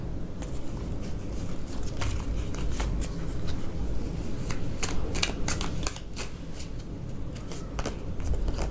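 Tarot cards are shuffled and drawn by hand up close, a continuous papery patter of riffling and sliding cards broken by crisp, irregular flicks and snaps.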